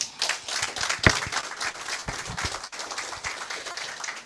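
An audience at a live morning show claps in a lively round of applause, close and fairly loud, with sharp individual claps standing out over a steady patter and no talking.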